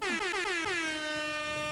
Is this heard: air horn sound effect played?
yes